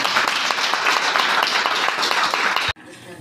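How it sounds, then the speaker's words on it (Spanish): An audience claps to congratulate the winner of a poetry prize at a CD presentation event, with loud, sustained applause that cuts off abruptly, leaving a quiet room tone. "recibe también este aplauso para felicitarte por el premio."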